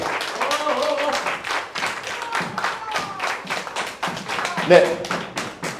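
An audience at a youth worship service claps continuously for award recipients, a dense, irregular patter of many hands heard up close, with a speaker talking over the applause.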